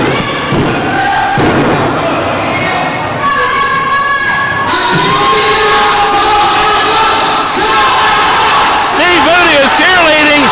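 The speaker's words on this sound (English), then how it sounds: "the fans are cheering" Pro wrestling arena crowd cheering and shouting during an NWA tag team title match, a loud continuous roar with thuds from the ring and a commentator talking over it.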